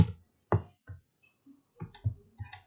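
Several keys are tapped on a computer keyboard while a value is entered, a sparse run of close, crisp clicks with short pauses between them in a quiet room.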